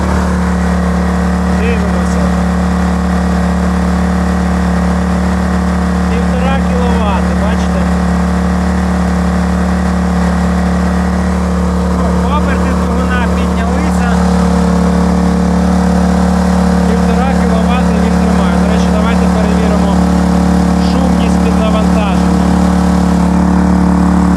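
A Kraft&Dele KD681 inverter generator runs steadily under a 1.5 kW load, a loud, close, constant engine hum with a deepening note, while someone talks over it.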